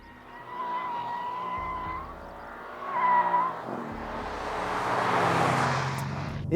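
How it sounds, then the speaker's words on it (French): A Mercedes C63 AMG with biturbo engine accelerating hard, a rising engine note swelling into a loud broadband exhaust roar with crackle, heard from nearby over about six seconds. "son moteur est très sympa et son échappement pétarade toujours autant"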